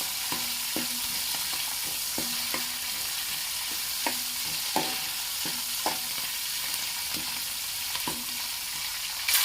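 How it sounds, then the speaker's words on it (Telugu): Onion paste frying in a pan for a fish curry, with a steady sizzle under repeated scrapes and taps of a stirring spoon at an even pace, close and moderately loud. "బాగా కలుపుకుంటూ వేయించుకోవాలి"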